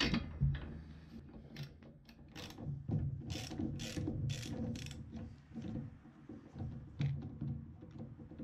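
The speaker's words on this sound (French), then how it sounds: "je vais retirer la première bougie" A ratchet wrench loosens a spark plug on a riding mower engine, clicking in repeated quick bursts of pawl ticks with short pauses between strokes, close and fairly quiet.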